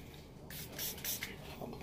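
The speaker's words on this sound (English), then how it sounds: "Let me spray some on here." Several quick hissing spritzes from a spray bottle in an apartment, short bursts in close succession, near and fairly quiet with no talking.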